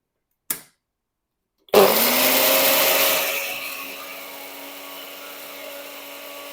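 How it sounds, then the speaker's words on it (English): A basic kitchen blender processes a breakfast mixture: a brief click, a pause, then the motor bursts on loudly and whirs steadily, its pitch settling as the contents smooth out, running alone up close. "I'll actually blend this first. I've got a basic blender that I use for rough purposes."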